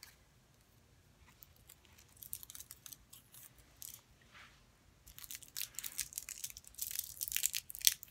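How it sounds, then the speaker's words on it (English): Scissors snipping and crinkling the plastic packaging of an eyeliner, quiet close cuts and rustles that grow louder and busier toward the end. "let me just cut a little bit of this plastic"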